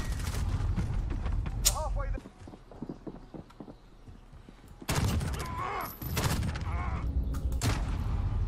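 Bursts of SMG hip fire from Call of Duty: Modern Warfare rattle out in two loud clusters with a quieter gap between, and a player talks over the gunfire.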